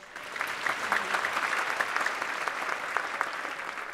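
A crowd claps steadily and evenly for several seconds after a jazz band performance at an outdoor sunset concert, a dense, continuous patter of applause at moderate distance.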